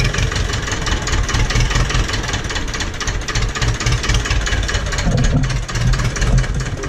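A Ursus C-330 tractor engine idles steadily close by, a continuous low throbbing rumble with a faint knocking pulse and no talk.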